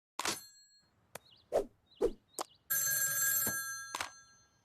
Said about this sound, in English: Mina, hotline phone.